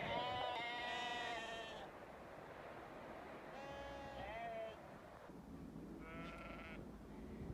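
Several sheep in a snowy farm pen bleat in close, wavering calls, with three distinct bleats spread across steady background noise and faint talk.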